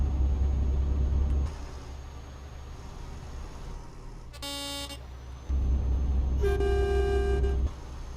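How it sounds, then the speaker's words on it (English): A deep, loud vehicle horn blasts twice, the second longer and brassy like a train horn, over a low engine rumble. "Sounds like a bloody train horn,"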